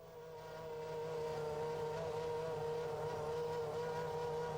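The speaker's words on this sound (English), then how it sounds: "Get the starter in and start it." A Formula One car engine, started on the grid at the 2002 Australian round, settles into a steady, even droning hum after a brief swell, heard at a moderate distance without any speech.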